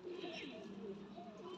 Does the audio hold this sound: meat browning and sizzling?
no